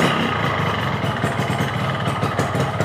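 Two-stroke motorcycle engine running KR Oil-2 2T oil, freshly started and idling at low speed, a loud, continuous, close rattling drone without talk.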